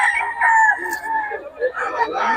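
A stag rooster crows close by, a loud, drawn-out cock-a-doodle-doo filling the moment, with a brief cluck or second bird call near the end.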